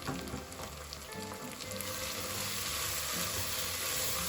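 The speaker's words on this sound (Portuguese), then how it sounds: "Vou deixar isso aqui refogar bem pouco tempo agora" Tomato extract sautéing in a pan with meat for a Bahian okra stew, giving a steady crackling sizzle that swells slightly louder partway through, with no talking.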